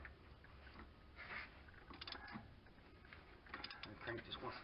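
A ratchet clicks in short bursts while cranking a bolt down during a timing belt job on a 1997 Nissan Pathfinder, close up and fairly quiet, the ticking coming in uneven clusters.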